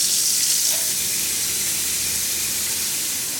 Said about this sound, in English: go ahead and place it in your large bowl and fill it with water.